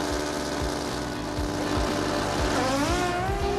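Suzuki drag racing motorcycles at an NHRA event in 1995 roaring off the line, a loud sustained engine howl with rapid gear-change pulses and a rising whine toward the end, heard at a distance with no talk.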